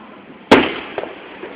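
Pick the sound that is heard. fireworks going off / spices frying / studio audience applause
fireworks going off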